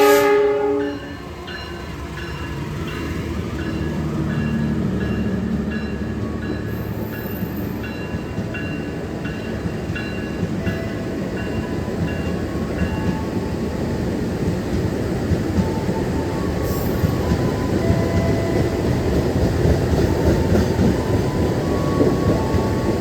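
The Argowilis and Ranggajati trains pass each other on the railway, a loud sustained rumble of wheels on track, with a brief horn at the start, continuing steadily throughout.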